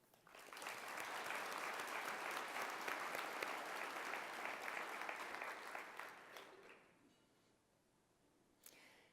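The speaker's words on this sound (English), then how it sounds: "Please join me in a round of applause in recognition of our sponsors." Conference audience applauding for the event's sponsors, a dense, loud round of clapping that holds steady for about six seconds, then thins out and fades, with one last stray clap near the end.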